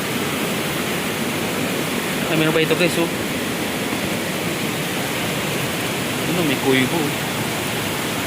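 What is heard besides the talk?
strong gushing water from a dam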